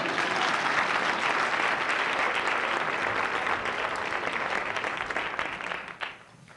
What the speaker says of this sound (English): You can applaud, what the heck?